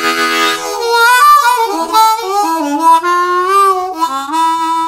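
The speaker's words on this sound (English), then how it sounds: "So this is a lower key harmonica to the C" Low-key harmonica, pitched below C, playing a deep, bending melodic phrase with wavering sustained notes, close and loud, heard alone.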